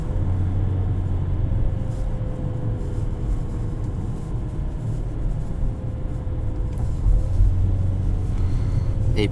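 Engine and road noise from a 2022 Infiniti QX55 Luxe while driving, a steady low rumble with tire roar throughout and a faint tonal whine, slightly louder near the end.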